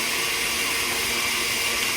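A blender churns ice cream mixture with ice in a steady, dense roar that stays even and continuous throughout the short stretch, with no voices.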